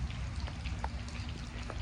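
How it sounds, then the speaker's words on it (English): Rain falls steadily outdoors, a soft continuous patter with scattered individual drops tapping nearby against a low background rumble, no voices present. "It's raining."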